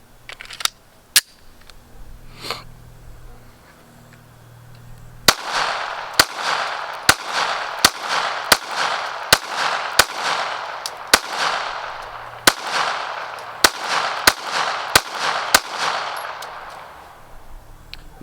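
Taurus GX4 TORO pistol fired in a string of about fifteen sharp, loud shots at a steady pace, each with a short ringing tail, after a few scattered quieter bangs and handling noises at the start.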